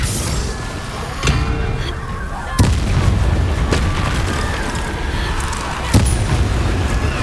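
Fire spell blasts in the video game Hogwarts Legacy, three loud, sharp booming impacts spaced a few seconds apart over a dense, continuous rumble of combat and music.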